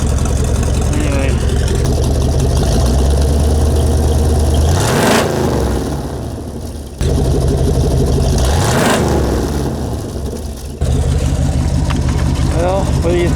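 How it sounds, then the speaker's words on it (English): A car engine revs hard twice through a dual exhaust left after the catalytic converter was stolen, each rev climbing to a roar and dropping back to a rumbling idle, close by. "And back here is what my dual exhaust sounds like now."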